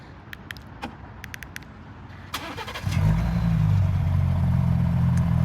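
A Ford Bronco Raptor engine cranks for a moment and then starts, settling into a steady low idle after a few faint clicks and taps inside the cabin. The startup is subdued rather than loud.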